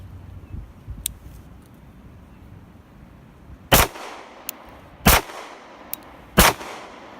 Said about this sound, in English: Shooting with 2 hands. And shooting with 1 hand.